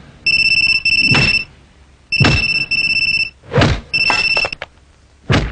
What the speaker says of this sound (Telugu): హలో, సత్యాకి ఫోన్ ఇవ్వు.